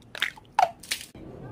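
A few wet, squishy bites of orange jelly sound in close-up, three distinct soft chomps in quick succession, with no talking.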